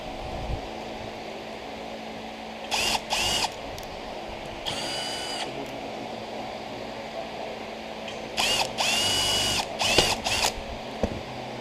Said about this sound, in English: Drill out the rivet.